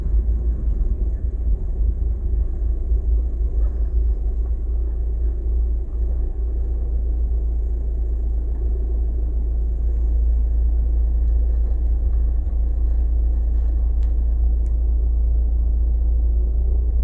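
A car engine rumbles low and steady from inside the cabin as it pulls away slowly in first gear in Paris traffic, a smooth drone with little change.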